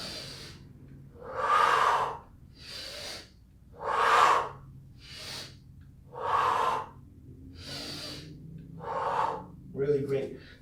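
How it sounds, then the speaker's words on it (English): Slow, deliberate breaths during a back exercise for lower back pain, long audible inhales and exhales alternating in a steady rhythm, close and fairly loud, with quiet room tone between breaths. "This is the main idea of this exercise, breathing in and out."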